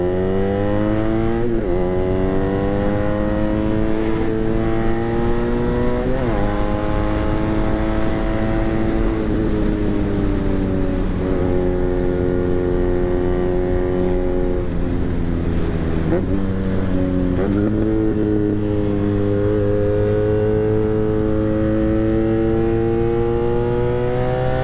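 A BMW R nineT motorcycle riding on a well-kept road in San Jose gives off a loud, close engine drone that climbs in pitch, drops at each gear change, and repeats through several shifts.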